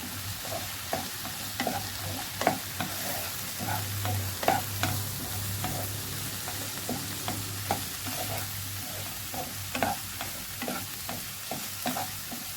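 A spoonful of turmeric frying in hot oil in a pan for a sorrel-leaf chutney, giving a steady sizzle with a low hum underneath and regular scrapes and knocks of a spoon stirring throughout, close by and without any talking.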